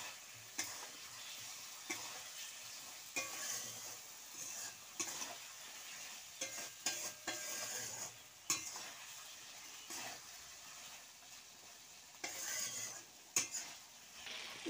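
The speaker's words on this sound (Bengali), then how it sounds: "এবার ভাজা পটলগুলো দিয়ে একটু নাড়াচাড়া করে নেব।" Fried pointed gourd stirred in a pan, with irregular spatula scrapes and clinks against the metal repeating over a low sizzle, close by and moderately quiet, no talking.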